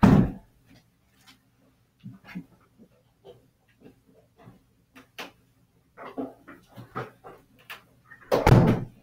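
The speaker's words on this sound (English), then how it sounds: "Let me just close the door." Sparse clicks and bumps, then a loud door closing with a solid thud near the end; quiet rustling throughout, no talking.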